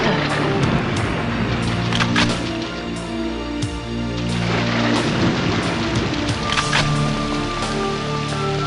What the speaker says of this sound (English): Strong rain.